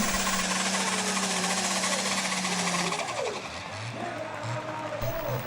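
A heavy pulling tractor's engine roars at full power while it drags a weighted sledge down a 100-metre competition track, a loud, continuous drone with a steady tone that dips and climbs as the load builds, crowd noise beneath.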